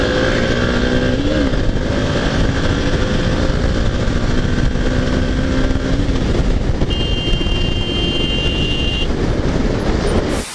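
A Hero Xpulse 200 4V motorcycle rides along an inner road, its engine drone and rushing wind noise loud, steady and close for the whole stretch with no talking.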